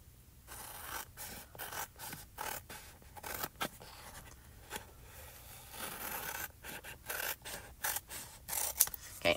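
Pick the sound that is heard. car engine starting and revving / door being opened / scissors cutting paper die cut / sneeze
scissors cutting paper die cut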